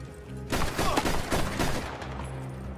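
Gunfire in Red Dead Redemption 2 online, a loud burst of rapid, overlapping shots lasting about one and a half seconds before fading.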